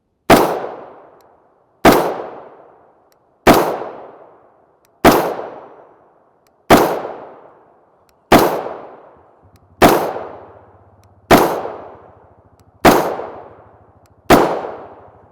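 Ten loud gunshots from a 10.5-inch short-barreled .223 rifle, a PSA build firing 77gr OTM rounds, crack out one at a time at an even pace about every second and a half, with no talking between them.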